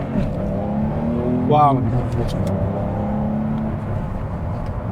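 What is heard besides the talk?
2024 Porsche 911 GTS engine accelerating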